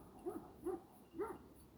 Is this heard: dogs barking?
yes